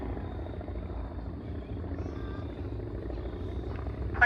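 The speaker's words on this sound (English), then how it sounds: "Planes are coming around" Vintage biplanes circle overhead at Old Rhinebeck aerodrome, their piston engines a steady, distant drone that holds evenly throughout with no voices over it.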